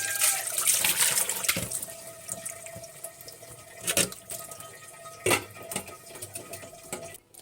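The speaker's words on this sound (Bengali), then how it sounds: "এখন মাছগুলো ধুয়ে নেব।" Fish, kalibaus nola, are rinsed under a running kitchen tap, water splashing and gurgling steadily with sharper splashes as pieces are handled, close by and with no talking.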